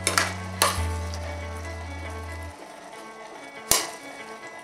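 Meats and vegetables sizzle steadily in a skillet for overstuffed mac and cheese, with a low hum early on and a couple of sharp utensil clinks against the pan.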